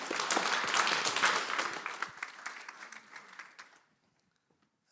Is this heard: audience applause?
yes